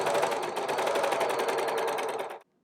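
A sewing machine stitches a cowl onto the back panel of a bomber jacket made from couch upholstery fabric, running in a steady, rapid needle rhythm for about two and a half seconds before stopping abruptly.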